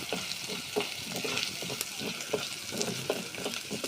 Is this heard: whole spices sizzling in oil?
yes